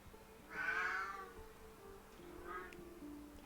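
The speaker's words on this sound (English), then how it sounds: "That's one of the cats wanting some attention." A cat meows for attention, two plaintive calls about two seconds apart, the first longer and louder, the second shorter and softer, heard quietly over a faint background hum in a game setting.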